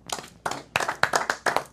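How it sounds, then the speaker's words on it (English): A handful of people clapping in short uneven bursts, close and sparse rather than a full crowd, each burst a quick flurry of hand claps. "So let's clap that up"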